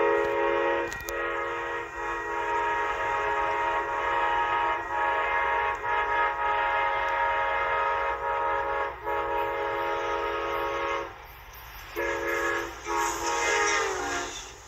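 A train led by locomotive F-148 sounds its K5LA horn in long, loud chords with brief breaks, the blasts sustained over rail rumble for most of the stretch.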